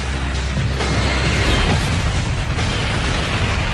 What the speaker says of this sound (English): The KLM smashes into the American jumbo at 290 kilometers per hour. Just a shattering noise.